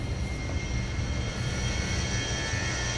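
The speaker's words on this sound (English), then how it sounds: "there's a plane taking off" A jet airliner taking off at an airport sends out a steady, loud roar with a high engine whine on top. It holds continuous and fairly close, with no talking over it.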